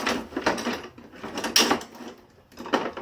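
Metal drum hardware stand loosened, collapsed and folded up, giving a few scattered close clanks, scrapes and rattles of metal parts with quiet gaps between them.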